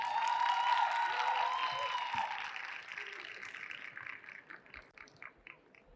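An audience claps at an award ceremony for a health promotion project exhibition. The applause is steady and dense at first, then thins out and fades as the clapping winds down.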